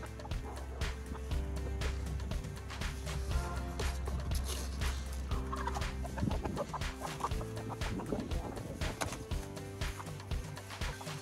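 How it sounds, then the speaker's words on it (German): Welsumer chickens crowd a meadow fence before feeding, clucking and murmuring close by in overlapping calls, with a dog barking faintly among them and louder squawks toward the end. "Und hier sind unsere Hühnis. Das sind die Welsumer"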